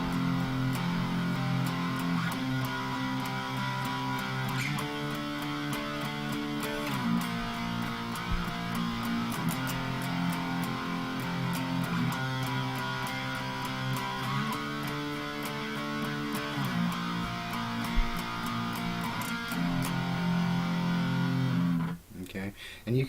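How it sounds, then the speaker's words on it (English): Electric guitar with distortion plays a riff of power chords in drop D tuning, chunky repeated chord hits in a steady rhythm, loud and close, ending with a brief scrape. "just to give you an example of what power chords can do, okay, I'm going to play for you a little riff"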